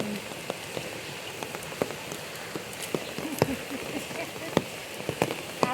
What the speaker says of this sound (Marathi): पाऊस तर आवाज